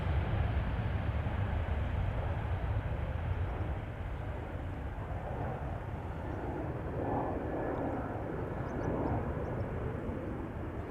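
Aircraft at Amsterdam Schiphol Airport produce a steady, distant roar that continues throughout, with no speech.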